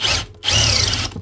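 A power drill whines in two bursts as the bit reaches the bottom of the hole and jams, with a short gap between the loud, close runs.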